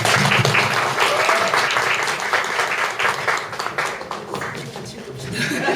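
Audience applause for a speaker at a talk event, a dense steady wash of many hands clapping that fills the room, with voices mixed in and the clapping slowly thinning toward the end.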